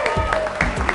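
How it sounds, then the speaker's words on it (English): A fitness class crowd applauds, a short burst of scattered hand claps mixed with a few voices. "Clap it up for being here."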